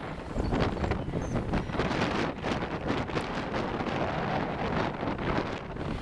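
Strong wind buffets the microphone in continuous low rumbling gusts, loud and steady throughout with no voices, during a bike ride near whitecapped Rabbit Lake around Kenora, Ontario.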